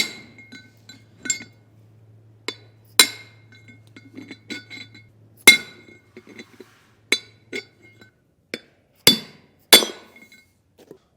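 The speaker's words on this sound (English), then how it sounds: "Get your punch to grab onto that and start hammering." Sharp metallic strikes ring out one at a time at irregular intervals, a hammer driving a punch against a trailer hub's Timken L68111 bearing race, close and loud, over a low hum.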